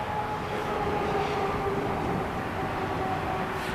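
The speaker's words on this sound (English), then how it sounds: "noise you're hearing is Highway 99, which is adjacent to the airport here" Steady, continuous rumble of Highway 99 traffic beside an airfield in Tulare, California, a dense broadband roar with a faint tonal whine running through it, constant in level and with no talking.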